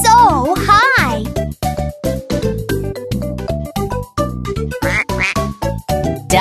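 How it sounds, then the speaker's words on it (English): Duck quacks in a children's animal song, a few bright quacking calls over bouncy music with a voice, loud and upfront. "Duck."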